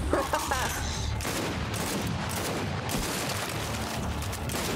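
Rapid gunfire bursts from Gears 5 crackle steadily and loudly throughout, with a brief chatter of voices near the start.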